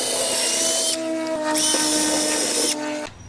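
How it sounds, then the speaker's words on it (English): A power drill bores starter holes for a Craftsman VersaTrack wall storage track, two close, loud whining runs with a pause between, then it cuts off. "Once I drill the holes on the top"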